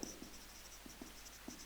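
Faint marker or chalk strokes on a board, a handful of short scratchy squeaks and taps at an irregular pace, quiet and close with no talk over them.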